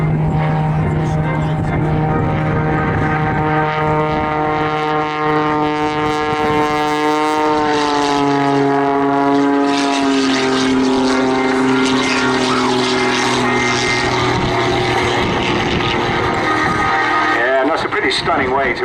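A Pitts Special muscle biplane flies at the Southport airshow, its propeller engine droning loudly with rising and falling pitch as it passes, while an announcer talks over a public address.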